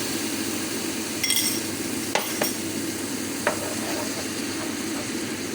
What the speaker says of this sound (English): Now I'm going to add my stock to my mince and onion.